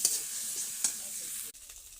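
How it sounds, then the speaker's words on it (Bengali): Taki fish fries in a pan for bhorta, a bright continuous sizzle with brief stirring scrapes, dropping quieter toward the end. "মাছ দিয়ে দিচ্ছি, এগুলো ভাজা ভাজা করবো"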